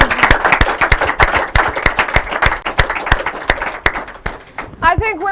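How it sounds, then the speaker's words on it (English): Audience applause at an inter-collegiate quiz and debate competition, loud rhythmic clapping that thins out toward the end, where a voice speaks briefly. "Let's clap some more."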